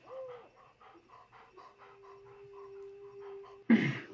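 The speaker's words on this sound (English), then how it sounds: "Yeah, good dog." A dog in the Blair Witch video game pants in quick, rhythmic breaths close by, over a faint sustained tone, ending with a louder sharp burst.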